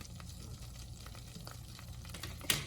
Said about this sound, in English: Melt that cream cheese down now in that butter